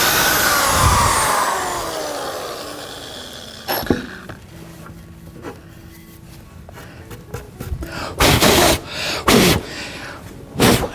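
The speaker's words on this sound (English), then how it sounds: "It's always important to know how to blow on your project." A long, strong breathy rush of air blows at the start as a woodworker blows dust off a freshly drilled rocking chair leg, followed by quieter clicks and several short, sharp puffs of blowing toward the end.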